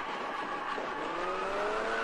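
A Nissan 370Z drifts with a long, steady tire squeal and engine roar at moderate distance, the pitch slowly shifting as the slide continues, with no voices over it.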